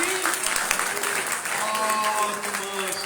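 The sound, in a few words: congregation clapping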